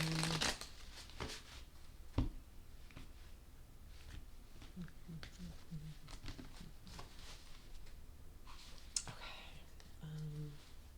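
Tarot cards being shuffled and cut by hand, giving soft riffling and papery clicks with a few sharper snaps, close and quiet, with no voices.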